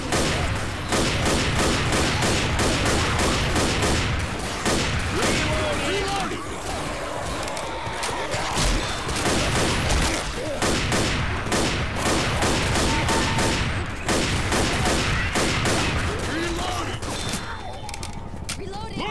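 Rapid bursts of gunfire in the video game Left 4 Dead sound loud and close as repeated sharp shots, with brief gaps and mechanical clicks between volleys. A voice talks over parts of the shooting.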